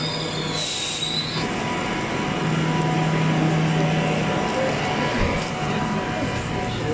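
A train rumbles steadily nearby at a station near Perth, Western Australia, with squealing wheels and a continuous heavy roar, a voice talking faintly beneath the noise.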